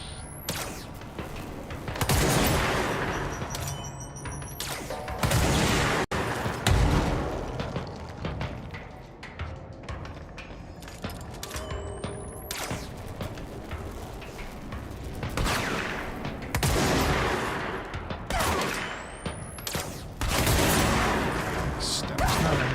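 Gunfire in the video game Control, repeated bursts of booming shots and heavy impacts scattered throughout, loud and close, mixed with game effects and occasional talking.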